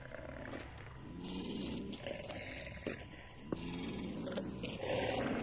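Attack dogs in the video game Hunt: Showdown snarl and growl in rough, continuous rumbling bursts at moderate loudness, mixed with faint game ambience.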